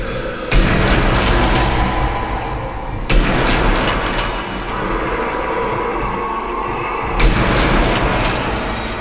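Grenade blasts in the Sniper Elite Nazi Zombie Army shooter: three heavy, booming explosions a few seconds apart, each a loud sudden burst trailing into a long rumbling decay.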